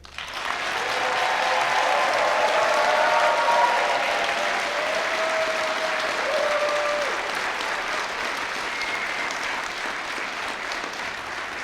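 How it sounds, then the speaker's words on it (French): An audience at a university graduation ceremony gives new humanities graduates sustained applause, with warm, steady clapping that swells, holds and slowly tapers over about eleven seconds amid faint crowd murmurs. "Applaudissons chaleureusement les nouveaux diplômés des baccalauréats de la Faculté des sciences humaines."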